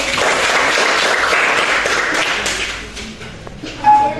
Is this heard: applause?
yes